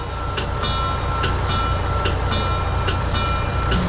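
A historic train on the Virginia & Truckee Railroad short line rolls along steadily. A constant low rumble carries sharp, regular clacks from the wheels passing over rail joints, heard from on board.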